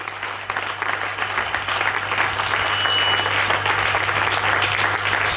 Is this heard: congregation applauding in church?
yes